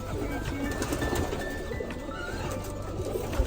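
Pigeons coo at a pigeon farm, soft repeated calls blended into a dense, noisy background of many birds.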